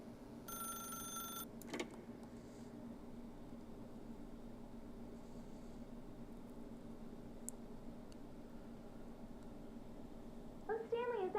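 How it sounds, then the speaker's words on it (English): A telephone rings briefly at the start in The Stanley Parable, a short bright electronic ring over a low steady hum, followed by quiet ambience. "then pick up the phone"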